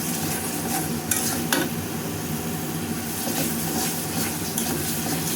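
Spice masala fries in oil under continuous loud sizzling while a spoon stirs it with occasional scraping strokes against the pan.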